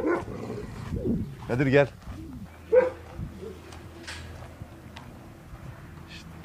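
A dog barks a few times at a farm, heard mid-distance between bursts of nearby talking, with some bird cooing in the background.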